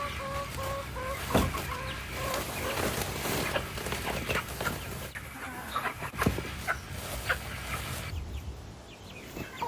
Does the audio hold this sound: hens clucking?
yes